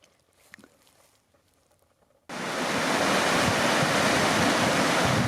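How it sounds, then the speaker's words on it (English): Small waterfalls at Tarrenbrook in the Forest of Bowland rush in as a loud, steady broadband roar after a couple of seconds of quiet outdoor ambience. "Here at the little waterfalls by Tarrenbrook Wire."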